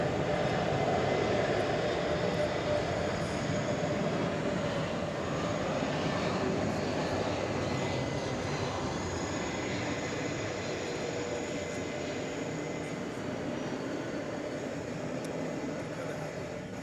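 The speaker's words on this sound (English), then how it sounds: "So there goes the flight to Madrid" A departing airliner bound for Madrid, heard at night at the airport as a sustained, broad engine roar that holds steady and slowly eases, moderately distant with no talk over it.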